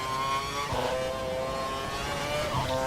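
An F1 race car engine in F1 2012 at Melbourne, a loud steady high-pitched whine with harmonic tones shifting as it accelerates, plus brief rumbling bursts as the car rides over the kerbs.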